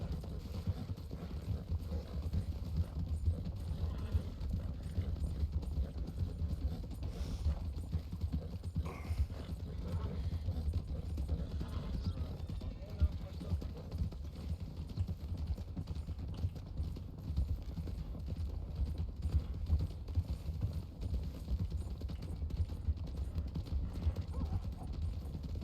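Steady clip-clopping of horse hooves at a walking pace in the video game Red Dead Redemption 2 roleplay, continuous and moderately loud, with no talking over it.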